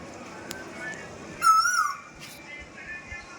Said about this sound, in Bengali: আজ কিছুদিন ধরে একটা কোকিল খুব সুন্দর ডাকছে